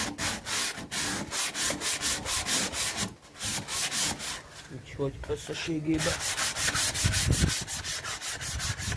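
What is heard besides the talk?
hand sanding a wooden trailer panel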